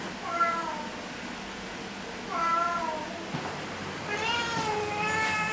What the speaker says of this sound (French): écoutez son miaulement là, et écoutez le miaulement quand je m'éloigne